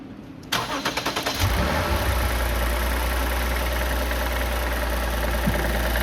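A Lexus IS300 with a 3.6L V6 cranks for about a second in quick rhythmic pulses, then catches and settles into a steady, close, even idle that runs alone to the end.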